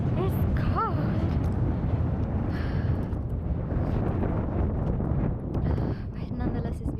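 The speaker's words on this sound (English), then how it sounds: "Wow, the wind has picked up." Strong wind on an exposed hill buffets the microphone with a loud, continuous low roar and gusty rumble, while a voice speaks briefly over it.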